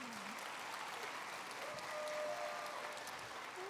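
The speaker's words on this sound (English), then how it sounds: "So how about a big round of applause for all those people that call this place home?" Faint, distant applause from a large audience at an Indigenous assembly gathering, a soft, even wash of clapping held steady throughout.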